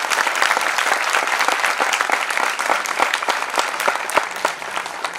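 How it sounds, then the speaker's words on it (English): A large audience at a college event applauds loudly and continuously, dense clapping spread evenly across the whole stretch with a few sharper individual claps standing out. "Can we have a huge round of applause"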